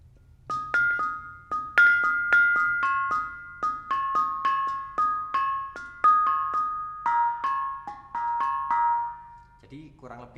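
Bonang penerus, the small high-pitched kettle gongs of a Javanese gamelan, played in mipil style: a steady run of bright, ringing metallic strokes alternating between pitches, close and clear, with brief voice at the end.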